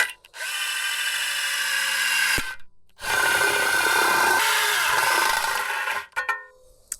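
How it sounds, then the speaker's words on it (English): A blunt step drill bores into a metal casing on a BMW E30, whining steadily in two long, loud bursts with a short pause between, then trailing off in brief stops. "I found the bluntest of step drills, and I've marked the location where I wish the wires to lead."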